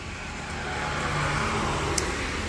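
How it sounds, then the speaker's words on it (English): Steady, loud street traffic at a bus stop in the city of Hengelo, a continuous roar of passing cars and heavier vehicles close by, with no talk. "So I'm sitting at the bus stop here in my street."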